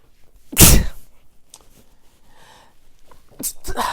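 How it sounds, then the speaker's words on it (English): One loud, close sneeze blasts right into the microphone, followed by quiet breathing and a few small rustles and sniffs. "Pardon me, I sneezed right into the microphone."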